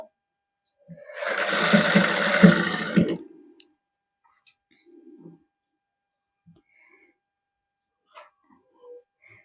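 A sewing machine runs a single close stitching burst of roughly two and a half seconds, attaching lace to a silky suit, followed by near silence with faint small clicks.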